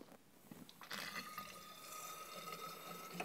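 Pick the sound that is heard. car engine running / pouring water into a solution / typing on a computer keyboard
pouring water into a solution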